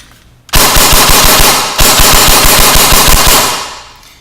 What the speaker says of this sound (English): this is semi, and it's about as fast as you can pull the trigger.